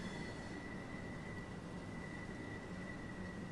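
A passenger train passing in the Train Sim World 2 video game on the New Haven to Brighton East Coastway route, a continuous rumbling roll with a steady high wheel squeal, heard alone.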